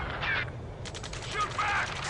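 Gunfire in Ace Combat 7 Skies Unknown: a quick rattling burst of rapid shots, moderately loud amid battle noise, with short radio-style voice fragments heard around it.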